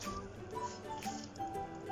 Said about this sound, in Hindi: दबा के अच्छे से हम प्याज का पानी निकाल लेंगे।